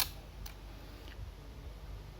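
A Yashica Electro 35 GSN camera's shutter is released on automatic exposure, producing two soft, faint mechanical clicks a little over half a second apart in a quiet room.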